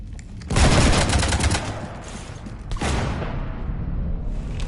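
Rapid gunfire shoots up a ship in the video game Mass Effect 3, a loud burst of automatic fire followed by a second volley and lingering mechanical rumble.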